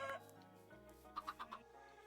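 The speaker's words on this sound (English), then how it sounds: "get these chickens while I can" Minecraft chickens give a short burst of clucks in the game world, four quick bright calls close together after a faint opening cluck, over a low steady game background.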